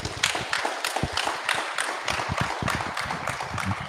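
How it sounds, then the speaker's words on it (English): Audience applause for council candidates at an Eastern Ward, Hutt City Council election event, a dense, steady patter of many hands clapping at moderate loudness throughout. "Now let's give them a big round of applause."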